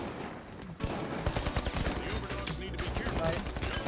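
Rapid gunfire crackles in The Finals, an online first-person shooter, with dense bursts of automatic shots and sharp impacts layered over continuous game noise.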